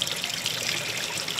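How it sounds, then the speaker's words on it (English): Water runs in a steady, close stream as cooked, freshly caught crabs are rinsed off. The splashing trickle is continuous through the whole short moment. "A bunch of it actually came out when I popped them open. So I'm gonna wash it off."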